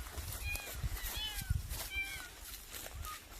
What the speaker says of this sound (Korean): 이 밑에 고양이가 있나 본데 야옹야옹 그러는 것 같아요.